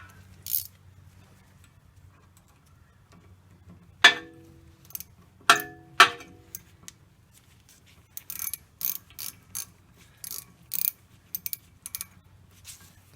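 A small hand ratchet tightens bolts underneath a car's wheel assembly during wheel bearing work. It gives a few sharp clicking bursts, then a quicker run of short ratcheting clicks, close and alone over a low hum.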